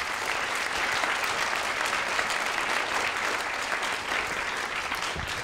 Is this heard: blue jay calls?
no